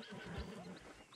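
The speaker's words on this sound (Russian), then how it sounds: "Это дикие лошади." Wild horses in Red Dead Redemption 2 give a short, fairly loud whinny over a murmuring game ambience, with faint hoof thuds close by.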